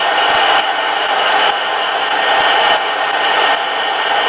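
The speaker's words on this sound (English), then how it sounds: "I'm going to take my hair dryer, quickly" A hair dryer blows steadily at close range, drying a painted miniature figure, a loud continuous whooshing hum with a few faint clicks along the way.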